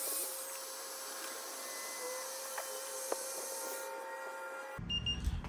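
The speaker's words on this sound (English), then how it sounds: "Now I'm going to take an electric heat gun and heat the kerosene up to 100 degrees" An electric heat gun warms kerosene for a John Deere B gasoline-versus-kerosene demonstration, giving a steady whirring blow with a thin whine and a few faint clicks, then cutting off near the end before some brief clattering.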